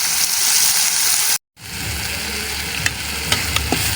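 Chibbad chutney being stirred and fried in a pan, a steady broadband sizzle with scraping stirs, briefly cut off, then resuming with a few clinks of a utensil against the pan.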